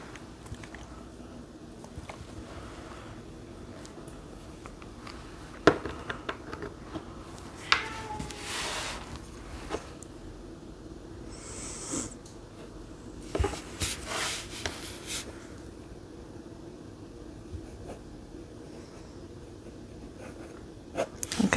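Pen writing with ink on paper, quiet close scratching strokes in short bursts, with a few sharper taps and scrapes in between.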